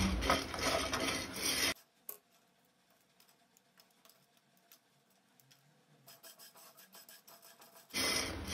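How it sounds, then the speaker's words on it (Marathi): Whole spices are stirred in a pan while dry-roasting for Goan garam masala, giving scraping, rasping strokes at the start and end with faint scattered rattling and ticking between. "मसाले भाजता आसतना सतत ढवळत रावपाक जाय।"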